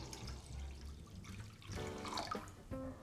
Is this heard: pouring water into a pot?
yes